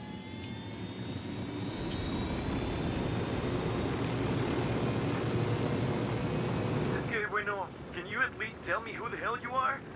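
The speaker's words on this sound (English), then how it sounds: "We got a chopper." In-game helicopter rotor and engine from Ghost Recon Wildlands, a loud steady roar across the first seven seconds that then cuts off as voices talk.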